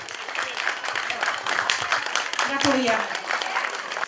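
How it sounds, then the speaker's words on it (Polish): A village community gathering claps enthusiastically in sustained applause at a prize presentation, while a voice briefly speaks over the clapping. "Wielkie brawa"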